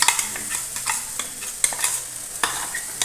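Pepper powder sautéed into masala for fish curry (aila kari), a steady pan sizzle with repeated sharp scrapes and clinks of a stirring spoon, close and alone.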